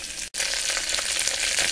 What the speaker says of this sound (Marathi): आपण छान खमंग फोडणी बनवून घेणार आहोत